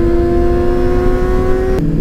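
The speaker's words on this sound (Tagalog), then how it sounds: "Grabe naman yung mga muffler mo. Ha? Grabe ang ingay." A motorcycle with loud aftermarket mufflers revs on a morning breakfast ride: a loud, close, sustained exhaust drone holds one pitch and then drops sharply near the end.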